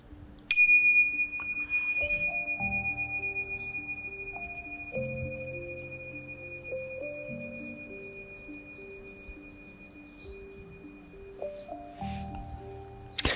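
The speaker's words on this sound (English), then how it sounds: "I'm going to ring the bells for that." Hand bells rung several times during a guided meditation, each strike giving a clear, bright metallic tone that rings on and fades, with the strikes spaced irregularly across a quiet room and no voices.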